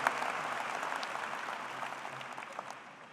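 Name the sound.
audience applause welcoming commencement speaker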